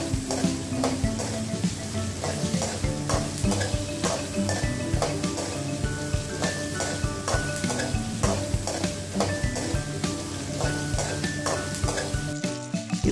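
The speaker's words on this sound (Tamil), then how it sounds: "இப்போ நல்லா வதக்கி விடலாங்க." Chopped raw mango with curry leaves stir-fried in a pan, a steady sizzle under repeated scraping and knocking of a spatula against metal, close and continuous.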